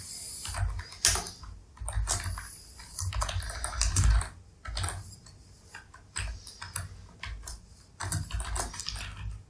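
Rapid, uneven clicking of fingers typing on a computer keyboard, keystrokes close and steady in bursts with short pauses, no talk.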